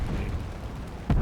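ShVAK cannons firing from a Soviet I-185 fighter plane in the War Thunder combat game: a continuous rumbling roar of gunfire, ending in a sharper, louder burst, with no voices.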